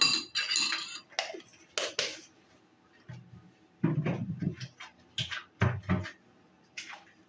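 A spoon scoops peanut butter from a jar in a home kitchen, giving a handful of short metallic scrapes and clinks in irregular bursts with quiet gaps between, close and clear, with no voices.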